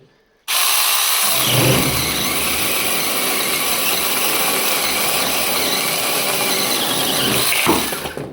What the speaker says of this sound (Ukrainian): Вона почала різати. Хоча дим йде, вона смердить, але вона ріже.